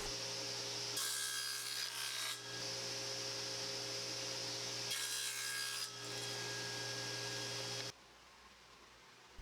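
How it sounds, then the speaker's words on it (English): Square wood pieces cut from ripped boards with a miter sled and stop block on a table saw: two loud cutting passes of about 1.5 seconds each over a steady saw motor hum that winds down at the end. "used the stop block of my miter sled to cut out 3 square pieces from each"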